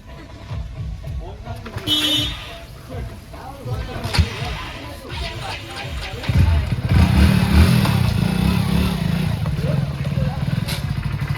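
Voices talk over background noise, then a motorcycle is kicked to life and its engine settles into a steady, loud rumble close by.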